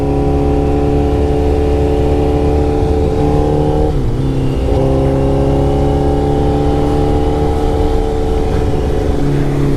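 Motorcycle engine droning at steady high revs while the rider holds a wheelie in a high gear, loud and close, with a brief dip in pitch midway before it climbs back to a constant whine.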